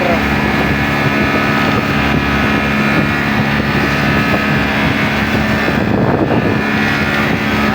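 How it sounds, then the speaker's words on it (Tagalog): A motorized bangka fishing boat runs at sea on the way to the fishing grounds, its engine a steady, loud, continuous drone mixed with wind buffeting the microphone. "Dito tayo muna sa kanyang bangka."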